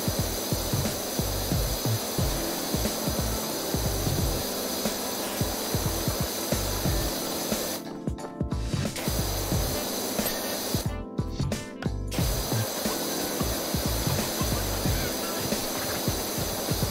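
A pressure washer in PowerWash Simulator blasts a continuous loud hiss of spray, broken by two short pauses in the middle before resuming.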